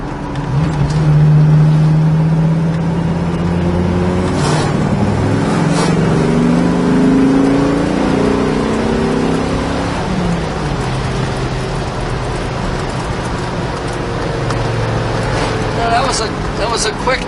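A 1970 Dodge Challenger accelerates hard to around 90 mph, its engine droning and rising in pitch before easing off, heard from inside the car with road and wind noise and some talk.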